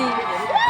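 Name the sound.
large cheering crowd at a bullock cart race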